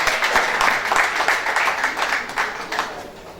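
An audience at a quantity surveyors' investiture ceremony in Nigeria gives a brief round of applause, the claps uneven and pulsing in clusters, fairly close and loud, with some murmur mixed in.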